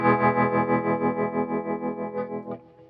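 A Hardwire TR-7 tremolo pedal shapes a held guitar chord into a steady pulsing throb from blended wave patterns, about four swells per second, loud and alone before the note cuts off near the end.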